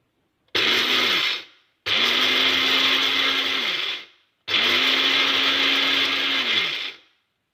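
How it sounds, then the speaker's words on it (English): An electric grinder runs three times, grinding dry masala spice powder for green chilli pickle, each burst a loud steady whine of several seconds with short silent gaps between. "just now I grind this dry masala powder"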